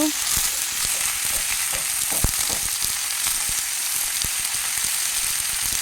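Potatoes with ginger and turmeric frying in a pan for a Bengali shim aloo dish, a steady close sizzle broken by soft scrapes and taps of a spatula as the mix is lightly turned.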